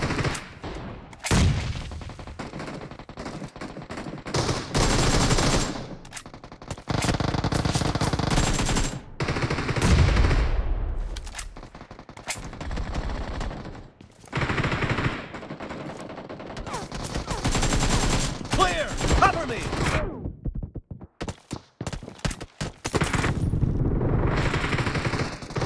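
Rapid bursts of automatic gunfire from the PUBG Mobile video game, with loud, dense volleys broken by short pauses and occasional single shots throughout.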